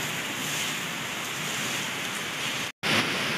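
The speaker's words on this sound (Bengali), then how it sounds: "আর এখন বৃষ্টির পরিমাণটা কমেছে, অল্প অল্পই বৃষ্টি পড়ছে। আছে সাথে প্রচুর ঝোড়ো হাওয়া" Light rain and strong gusty wind from Cyclone Remal make a steady, broad hiss outdoors, broken by a short dropout near the end, with no voices.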